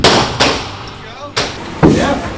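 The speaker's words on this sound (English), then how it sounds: "learn how to shoot some guns" Gunfire at a local gun range in Texas: three or four loud, sharp shots spaced roughly half a second apart, each with a short ringing decay, close to the microphone.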